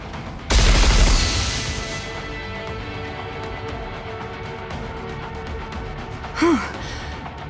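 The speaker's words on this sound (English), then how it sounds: "Firing missiles now." Missiles fire in the game NIKKE: Goddess of Victory, a loud whooshing launch burst up front that trails off into steady rumbling game ambience, with a short second whoosh near the end.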